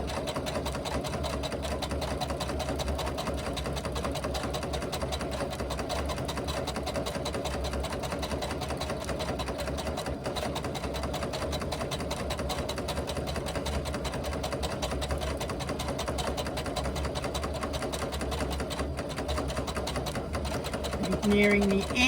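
A sewing machine runs a long, steady stitching pass along an eighth-inch seam on a foam-padded laptop bag, whirring continuously at close range with a faint voice underneath, then slowing near the end.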